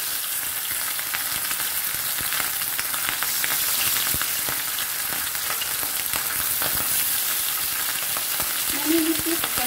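Marinated fish frying in oil in a large pan, a steady loud sizzle with crackling pops throughout and no talking.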